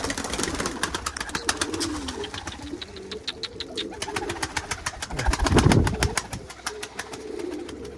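A pet pigeon coos close by in a series of soft, rhythmic low calls, with occasional wing flutters and a voice speaking now and then.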